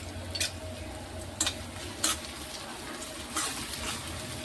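Chicken liver curry frying in a pan, a low steady sizzle with a few brief clinks and scrapes of a stirring utensil, close and without talk.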